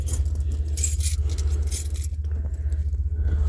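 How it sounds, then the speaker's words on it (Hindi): A bunch of car and house keys jangles in the hand with light metallic clinks, busiest in the middle, over a steady low hum, close by and with no talk. "ये सामने घर का चाबी है।"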